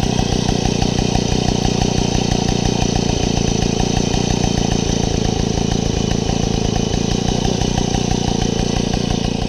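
A 1960 Motobécane AV88 moped's small two-stroke engine runs steadily and loud, a dense, even buzzing with a fast regular firing pulse throughout, nearby and alone with no voices.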